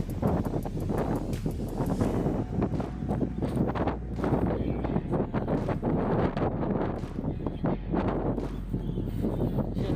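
Steady outdoor wind in Sandnessjøen, Norway, at about 5°C buffets the microphone, a constant low rumble with gusty rustling throughout.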